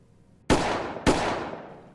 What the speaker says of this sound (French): Ça, c'est le bruit du colonel Martin en train de tirer sur un cadavre vieux de plusieurs centaines d'années.